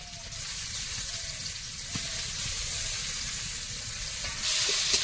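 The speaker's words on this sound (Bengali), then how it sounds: "মশলাটা একটু ভেজে নিয়েছি" Ginger and garlic paste frying in hot oil with chili, bay leaf, chopped onion and five-spice seeds, before cabbage goes in for a Bengali vegetable stir-fry. A steady close sizzle runs throughout and grows slightly louder near the end.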